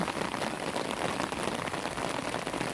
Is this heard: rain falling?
yes